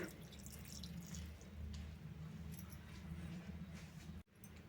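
Rice and lentil soaking water pours steadily into a mixer jar, a soft, continuous trickle heard close by that stops abruptly near the end.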